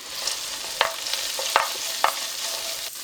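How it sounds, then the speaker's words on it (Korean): Onion and carrot stir-fry in a spoonful of cooking oil in a pan on a gas stove, with a steady loud sizzle and a few scraping stirs of the utensil, and no talk. "양파하고 당근 먼저 볶아줄게요."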